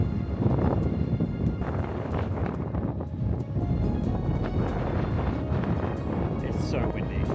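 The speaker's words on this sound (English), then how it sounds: "It's a little windy." Wind gusts steadily across open ancient ruins in Spain near an amphitheater and Roman baths, a broad constant rumble of buffeting against the microphone, with people talking over it.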